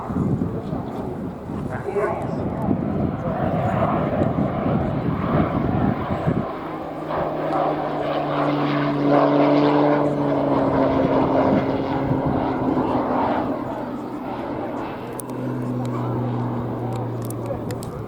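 A propeller aircraft performs an aerobatic display at the Royal International Air Tattoo, pushing negative G and rolling on the way up. Its engine drones steadily, rising and falling in pitch throughout, with a commentator talking over it.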